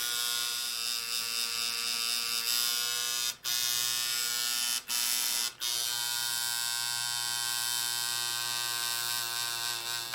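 A tattoo machine shading in bright yellow ink hums in a steady, loud electric buzz, cutting out briefly three times before running on, with no voices.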